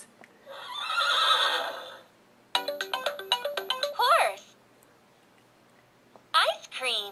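A Fisher Price Laugh & Learn Smart Stages tablet toy plays a bright electronic jingle followed by a recorded horse whinny, short and close, with a second whinny starting near the end.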